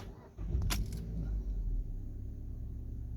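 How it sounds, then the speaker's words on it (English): A 2010 Mazda 3 engine cranks briefly and catches, then settles into a low steady idle rumble heard from nearby. "So just going to crank the car up."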